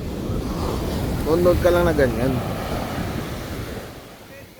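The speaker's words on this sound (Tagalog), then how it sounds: "Lakas pa rin ang alon, man." Surf rolling in at a Zambales beach, a steady wash of breaking waves with wind noise on the mic, while people talk and chat over it throughout.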